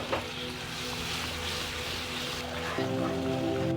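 Vinegar, green chilli sauce and dark soy sauce tossed over a high flame in a wok, a steady loud sizzle and frying hiss that swells near the end as the liquid hits the hot pan.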